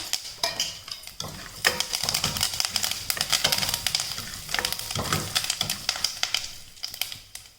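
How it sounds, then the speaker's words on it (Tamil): Mustard seeds splutter and pop in hot oil in a home kitchen pan, making a dense, continuous crackle of sharp little bursts, close and steady throughout. "கடுகு நல்லா பொரிஞ்சிருச்சு"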